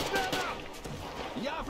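Gunfire in the first-person shooter Metro Exodus on Ranger Hardcore difficulty, a dense run of overlapping shots and blasts that holds steady at full loudness throughout.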